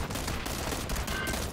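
Rapid gunfire in a shooter video game, a loud, dense burst of shots crackling without pause, heard without any talking.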